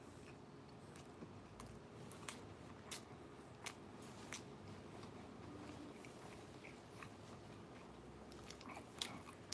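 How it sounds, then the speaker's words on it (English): Close-up biting and chewing of Papa John's The Works pizza topped with sausage and anchovy during a mukbang, with soft crunchy bites and moist chewing repeating irregularly, quiet and intimate, without talk. "That salty bite of the anchovy."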